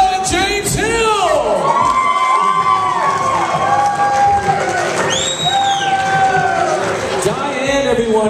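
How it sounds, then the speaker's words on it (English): Wedding guests cheer, whoop and shout loudly as a crowd throughout a reception introduction, with children's shrieks rising above the steady roar and whistles near the end. "Please give her a big round of applause."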